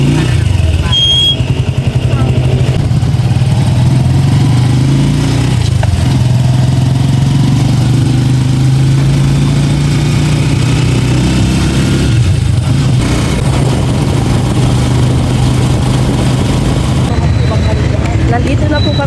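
A motorized tricycle's engine runs steadily through a ride, a continuous low drone with loud road and wind rumble and some shifts in pitch, and a voice talks intermittently over it.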